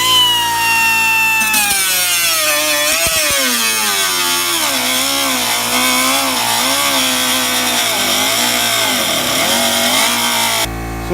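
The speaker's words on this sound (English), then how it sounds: "I'm going to continue cutting and letting the air build up more, because this thing is a high power tool" A high-power pneumatic air tool cuts steadily through a car rocker panel, a loud continuous whine that wavers and dips in pitch as it bites into the metal, close up and running alone for about ten seconds.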